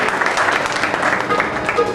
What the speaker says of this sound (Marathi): आपण त्यांचं नक्कीच टाळ्या वाजवून त्यांचं आपण अभिनंदन करूया